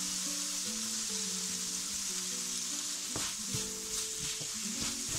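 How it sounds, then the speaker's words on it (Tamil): Fresh mango pieces for a mango chicken curry saute in a pan with a steady, fairly quiet sizzle, a few soft utensil knocks, and a low tonal hum running beneath; no talking. "மாங்காய் வந்து ரொம்ப நீங்கள் வதக்காதீங்க, கொஞ்சம் வதங்கினாவே போதும்."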